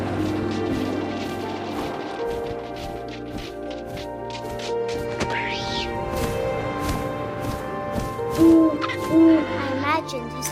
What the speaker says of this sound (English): And suddenly, I was an owl.